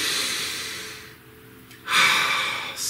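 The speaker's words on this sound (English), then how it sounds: "Please take a nice deep breath" A slow, deep breath drawn in and let out, a soft broadband rush that fades into a quiet pause before a stronger exhale swells near the end, close and alone.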